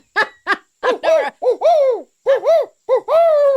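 Barred owl giving its 'who cooks for you' hooting call: a rhythmic series of loud, close, rounded hoots with rising and falling inflection, some drawn out into wavering notes, heard alone.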